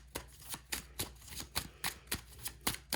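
Tarot cards shuffled and handled by hand in a quick series of crisp riffling slaps, about a dozen sharp bursts close up, with no talk over them.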